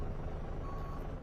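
Truck reversing beeps from a lorry driving video game, a faint repeating electronic tone over a steady engine rumble for just over a second, with no talking.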